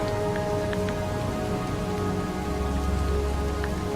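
Steady rain falls in Skyrim Special Edition, a continuous even hiss of drops with no voices.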